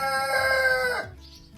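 A rooster on a farm at sunrise lets out one loud, drawn-out crow up close, ending abruptly into quiet with faint bird sounds behind.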